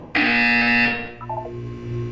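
A loud, harsh electronic buzzer from the Portal 2 video game sounds for about a second, then trails off into a lower tonal hum with a brief electronic warble.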